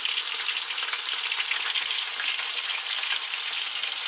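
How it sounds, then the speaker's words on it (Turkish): Eggplants frying in hot oil in a pan for karnıyarık, giving a steady, dense crackling sizzle that stays close and even throughout, with no talking over it. "Patlıcanlarım da burada kızarmak üzere."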